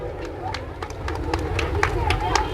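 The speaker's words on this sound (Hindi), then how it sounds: "जोरदार तालियों से इनका स्वागत" Crowd applause at a Republic Day ceremony in Sujangarh honouring a donor, steady clapping from many hands that builds slightly with voices murmuring through it.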